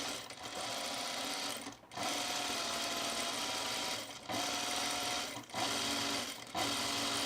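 A sewing machine stitches tucks on a fabric top in several sustained whirring runs with a fast needle rattle, broken by brief pauses between bursts, close and steady.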